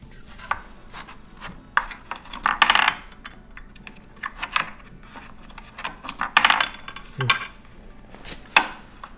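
A metal washer being fitted onto a RollerSki mount on a Pilot TS ski, with light clinks and scrapes of metal parts tapping and sliding together in irregular, close bursts.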